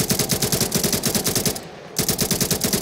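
Rapid automatic gunfire from Garry's Mod, loud and close, in fast bursts with a short pause before firing resumes.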